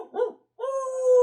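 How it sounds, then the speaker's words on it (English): A dog gives a short bark followed by a longer sustained whine or howl, fairly close and alone, a hunting dog out flushing wild boar. "Hey, I see a dog running around down there."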